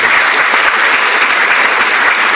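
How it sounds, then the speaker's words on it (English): An audience at a PhD commencement ceremony applauds, a loud, even wash of clapping from many hands that fills the whole moment. "another round of applause"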